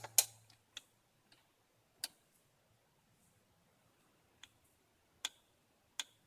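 A torque wrench clicks while tightening a bolt during a water pump replacement on a 2008–2012 Honda Accord, giving several sharp, isolated clicks spaced irregularly in an otherwise quiet room.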